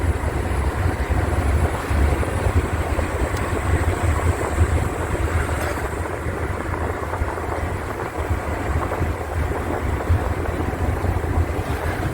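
Constant rushing wind roars through an open car window, a loud, unbroken buffeting hiss with low road rumble beneath.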